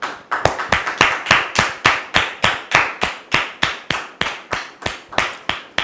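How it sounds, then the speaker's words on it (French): Studio audience clapping for a pastor's entrance on a French-language talk show, a steady run of about twenty sharp, distinct, close hand claps in an even rhythm, with no talk over it. "nous recevons maintenant le pasteur Jacques sous vos applaudissements"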